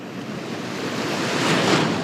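Ocean surf breaks and washes along a beach where anglers fish for perch and striper, a steady close rushing roar that swells slightly toward the end, mixed with some wind noise and no talk.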